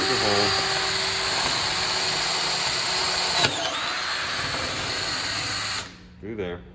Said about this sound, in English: So I have a large bit put on my drill here, a 1/2 inch bit